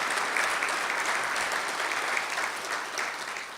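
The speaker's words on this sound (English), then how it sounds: "So a round of applause." Audience at a mayor's State of the City address breaks into sustained applause, a dense, even clapping that holds steady before tapering slightly at the end.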